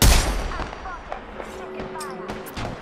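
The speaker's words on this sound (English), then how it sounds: "Somebody's shooting from the right." Gunfire in a shooting video game, several sharp shots scattered through a busy background with occasional game tones.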